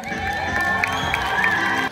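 A crowd of schoolchildren at a primary school opening day cheers and ululates loudly, high trilling cries carried over a dense, steady roar of voices.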